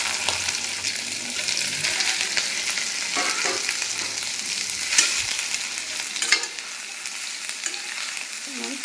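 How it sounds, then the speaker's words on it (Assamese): Boiled, salted soybeans fry in hot refined oil with a loud, constant sizzle, while stirring adds scraping and bursts of crackle partway through. "ফ্ৰাই কৰি লম"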